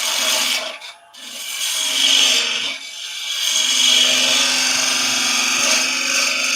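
A skew chisel on a wood lathe cuts a round-over while turning a cabriole leg, giving a steady close scraping hiss that dips briefly twice before running on continuously.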